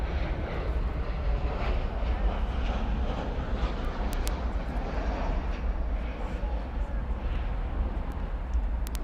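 A SkyWest airliner rolling for takeoff on runway 18 Left at Dallas Fort Worth Airport at night, a steady loud broadband jet roar with deep rumble holding constant throughout, with faint radio voices in the background.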